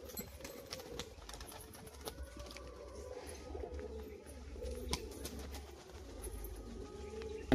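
Pigeons, including a male bird, give soft low cooing calls against a faint steady hum, quiet and close, with no talk.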